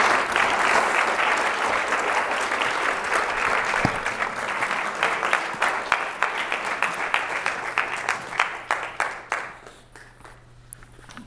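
Audience applause welcoming speaker Eric Alterman at a talk, a steady wash of clapping from a crowd that thins into scattered individual claps before fading out.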